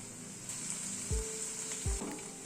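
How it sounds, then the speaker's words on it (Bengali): Ginger-garlic paste fries with onions in a pan, making a soft, steady sizzle with two brief low thumps of stirring. "আদা রসুন বাটাটা পেঁয়াজের সাথে একটু কষিয়ে নেব"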